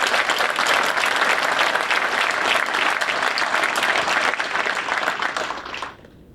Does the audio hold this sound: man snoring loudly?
no